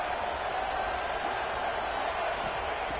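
A home crowd at a college football game makes a steady, dense roar of cheering that holds at an even level throughout without any clear peaks.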